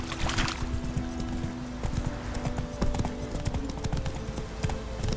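A horse gallops in The Witcher 3, its hooves clip-clopping in a quick, steady rhythm close by and loud, with the game's ambient sounds underneath and no talking.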